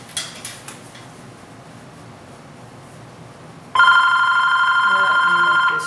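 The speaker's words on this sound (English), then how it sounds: "I'm not going to worry about that phone." A telephone rings loudly and steadily near the end, an electronic trilling bell that starts suddenly after a few faint knocks and quiet room noise during tiling work on a bathroom wall.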